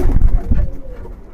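A pair of pigeons held in two hands give deep, throaty coos, two loud close rolling calls that trail off quickly; one is a racing game pigeon.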